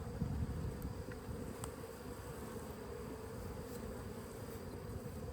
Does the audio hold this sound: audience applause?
no